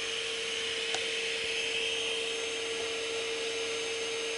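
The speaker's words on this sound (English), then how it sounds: "in this test I'll be checking the different power levels of the vacuum" A CNC vacuum table's vacuum runs at low power, a steady close hiss and hum with a constant tone that holds unchanged throughout.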